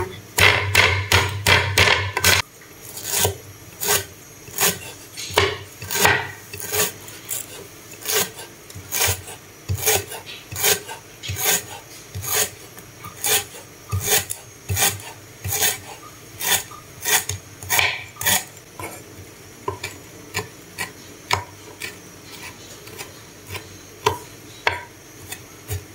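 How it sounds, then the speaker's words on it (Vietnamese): Lemongrass and chili are minced with a knife on a cutting board for a braise, giving a long run of steady, rhythmic chopping thuds close and clear, with brief scraping at the start and no talk. "mình sẽ bầm sả ớt mình kho nè"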